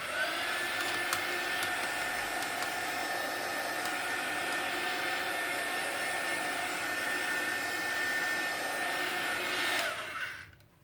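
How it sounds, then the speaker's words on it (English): A heat tool blasts steady, loud, even airflow while drying ink on a takeout bag, humming continuously for about ten seconds before cutting off abruptly near the end. "Quick dry with my heat tool, just so the ink won't smear."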